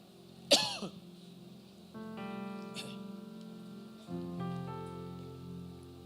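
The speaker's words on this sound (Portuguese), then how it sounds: "Quem passou essa tosse para mim aí?" A single sharp cough rings out near the start during a church service, followed by sustained organ-like tones holding underneath.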